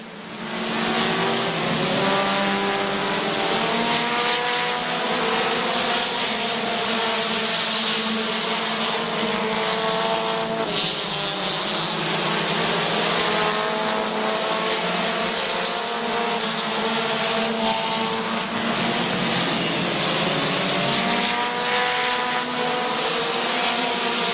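Race cars battle side by side at Midvale Speedway, their engines a continuous loud roar with rising and falling pitch as they circle the track, one brief dip midway.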